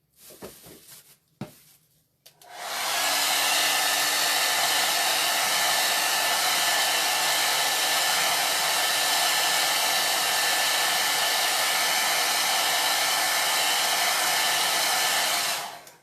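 A hair dryer blowing on a freshly painted craft piece made with chalk paste, switching on after a couple of faint handling knocks and then roaring loud and steady at close range for over ten seconds before cutting off.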